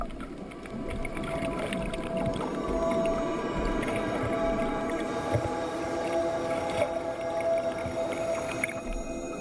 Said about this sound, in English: this device will pick up the sound of the sperm whale's clicks